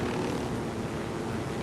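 Military helicopter in the video game Ghost Recon Wildlands, a steady dense whirring engine and rotor drone, constant and moderately loud with no talk.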